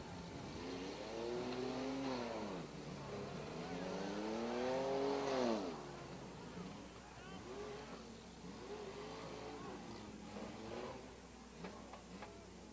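Demolition derby cars rev their engines at an enduro and demo derby event, with rising and falling engine whines, a couple of strong revving surges and scattered knocks, faint and somewhat distant, with voices mixed in.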